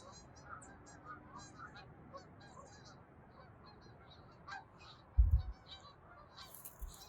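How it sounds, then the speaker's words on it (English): Distant geese honk repeatedly in a loose chorus of calls, faint over soft outdoor ambience, with a brief louder bump near the end. "oh wow, look at these geese."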